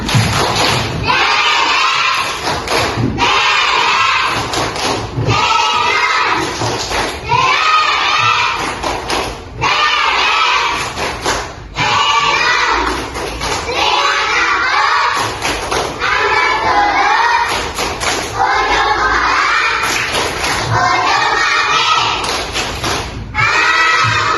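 A third-grade class at an Indonesian primary school claps a rhythmic chant in unison, steady loud beats with shouted voices running throughout, the teacher's speech mixed in.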